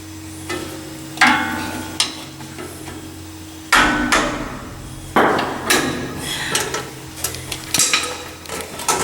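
Several loud, irregular metallic hammer knocks on semi-trailer brake parts, each ringing briefly, separated by quieter clinks and scraping of parts as a brake shoe is knocked off its pin.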